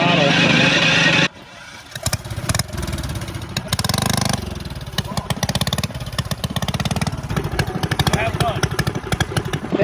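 A mini bike engine at a drag strip event on Busco Beach, starting loud then dropping to a steady, throbbing run on light throttle, close up, with a second surge of revs partway through.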